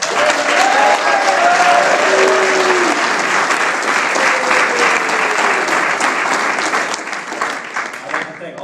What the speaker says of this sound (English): So please, everyone, give him a round of applause